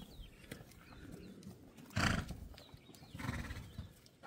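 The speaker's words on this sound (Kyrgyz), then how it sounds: "Мына быйылкы кулундар." Horses with young foals on a farm make soft snorts, a short whinny and scattered hoof sounds, fairly faint against outdoor background, with a louder burst near the middle and no talking.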